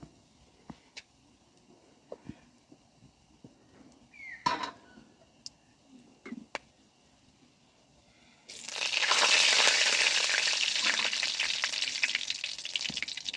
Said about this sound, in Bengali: তেলের মধ্যে দিয়ে দেবো প্রথমে হিং, দিয়ে দেবো গোটা গরম মশলা